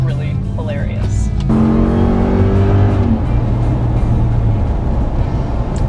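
A Hemi pickup truck accelerates hard from inside the cab, its engine roaring loudly and rising in pitch before settling into a steady drone, with people talking over it.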